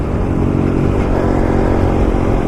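Honda Grom motorcycle engine running hard on a back road, a steady loud buzzing drone held at high revs without letup, close and continuous.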